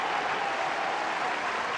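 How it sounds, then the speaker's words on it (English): A large crowd at the Crystal Palace athletics stadium in 1975 roars and cheers after a 400m hurdles race, a steady, dense wash of applause and shouting with no break. "This big crowd here at Crystal Palace loving every second of it."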